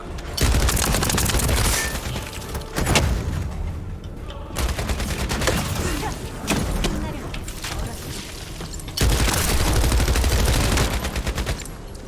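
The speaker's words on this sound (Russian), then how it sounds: "Звук стрельбы хорош." Bursts of rapid automatic gunfire from the game The First Descendant, loud and sustained, broken by short pauses and a few booming shots.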